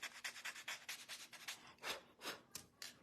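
Sandpaper rubs crayon off a wooden mandala coloring board in quick, rhythmic back-and-forth strokes, close and soft, roughly a dozen scratchy passes with a couple of brief pauses.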